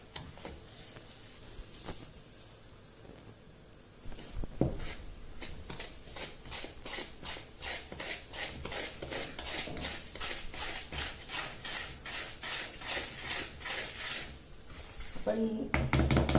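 Semolina, flour and milk powder for a semolina cake are mixed in a bowl, giving a steady, rhythmic run of scraping and tapping strokes close by that starts softly and settles into an even, quick pattern for several seconds.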